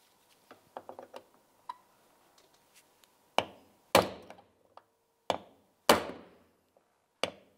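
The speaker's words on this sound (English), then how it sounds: "Use a hammer and punch out the center of each." Sharp metallic hammer strikes on a punch knocking out door-handle rivets on a 2003-2011 Mercury Grand Marquis, a few light taps followed by several loud ringing blows spaced about a second apart.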